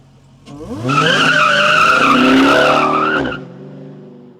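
Dodge Hellcat accelerates hard, a loud rising engine roar that climbs in pitch for about three seconds, heard close with no talk, then drops away.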